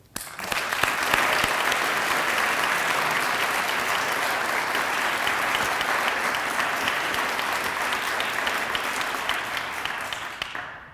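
A lecture-hall audience at a campus event breaks into sustained, even applause, loud and dense for about ten seconds before tapering off at the end.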